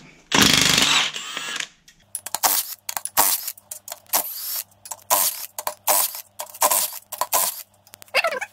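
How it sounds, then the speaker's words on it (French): An impact wrench removes 15 mm nuts while a 1993 Cadillac Northstar 4.6-litre V8 is taken apart. A loud, close burst opens the sequence, followed by a string of short rattling bursts and metallic clanks from the parts. "Donc les écrous de 15 à la clé choc."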